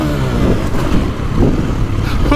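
A 2024.5 KTM 450 Factory Edition dirt bike rides a rough, rutted outdoor motocross track at Briarcliff MX, its engine roaring loud and close with surging revs over constant wind noise.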